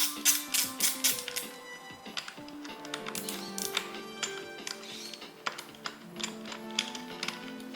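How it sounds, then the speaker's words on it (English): Bolts being started by hand into a bike suspension fork during removal, heard as a quick run of light metallic taps and clicks, close and fairly quiet, with no talking. "So, start these bolts off."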